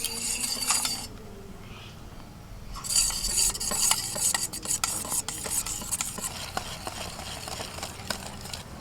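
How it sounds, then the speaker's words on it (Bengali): Semolina and flour are stirred together in a bowl for pitha, giving a close, scraping, gritty rasp of spoon against dry powder that pauses briefly before resuming in uneven strokes. "আর ময়দাটা মিশিয়ে নেব।"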